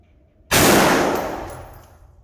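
A single loud rifle shot from a Springfield Armory Saint during a group test, hitting sharply and then fading over about two seconds with no talk.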